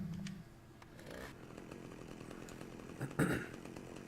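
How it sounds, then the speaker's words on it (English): A chainsaw in the Manhunt video game, revving up briefly near the door with a sharp louder burst toward the end over low game ambience. "I'm going to walk up to this door. I'm going to try to chainsaw it."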